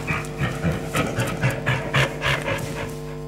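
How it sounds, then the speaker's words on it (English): A playful, non-aggressive dog pants rhythmically in quick, breathy huffs, close and fairly loud, repeating steadily with nothing else heard. "You can say in a moment that this was a sound from a dog, but this was not an aggressive or angry dog sound."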